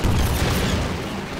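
A Half-Life 2 helicopter gunship fires on incoming rockets, heard as a single loud, booming blast that hits hard at once and then slowly fades over about a second.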